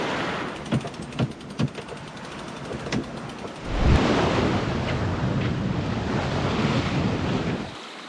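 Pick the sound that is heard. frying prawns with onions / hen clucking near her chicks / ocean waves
ocean waves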